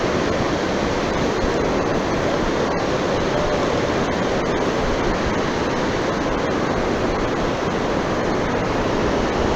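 Fast-flowing river water rushes in a loud, continuous, dense roar that holds steady throughout with no voices.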